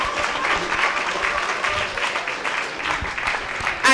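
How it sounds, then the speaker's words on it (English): A prison audience applauds at a literacy day event, steady moderate clapping lasting about four seconds, with a louder burst at the very end. "A round of applause, please."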